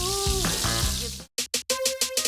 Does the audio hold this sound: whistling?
no